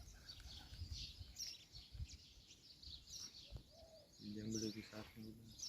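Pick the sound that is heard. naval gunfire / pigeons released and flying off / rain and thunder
pigeons released and flying off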